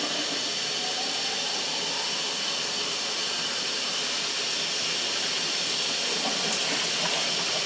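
Water pours into a pressure cooker over a corned brisket in a kitchen, making a steady, even hissing rush that holds at the same loudness throughout without a break.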